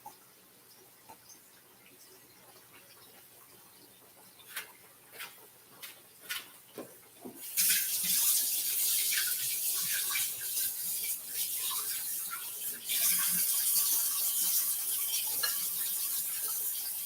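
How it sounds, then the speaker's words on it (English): Water from a kitchen tap runs steadily as hands are washed, starting after a few soft clinks and staying at an even, close, moderately loud rush to the end. "Let me wash my hands and I'll be right back."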